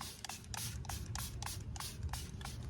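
A spray bottle fires repeated short bursts onto a decal on a 2025 Land Rover Defender, about eight quick hissing sprays in a steady rhythm, close and fairly loud over a low background hum.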